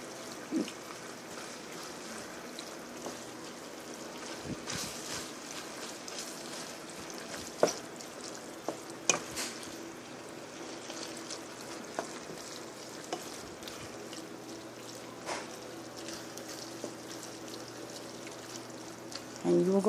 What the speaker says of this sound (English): We're going to add just a little bit more water.